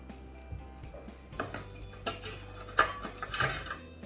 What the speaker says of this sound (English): I'm gonna try the scraper.